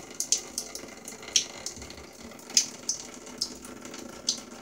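Water runs from a home shower as a faint, steady hiss, broken by several sharp splashes and drips spaced irregularly throughout.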